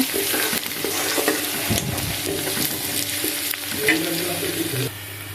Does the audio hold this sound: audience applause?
no